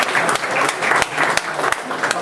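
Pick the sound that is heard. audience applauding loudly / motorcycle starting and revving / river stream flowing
audience applauding loudly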